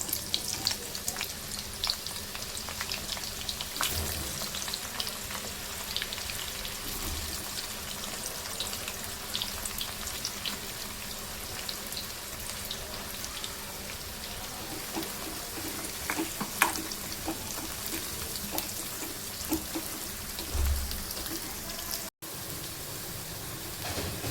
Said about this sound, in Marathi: आता आपण याच तेलामध्ये कांदे तळून घेणार आहोत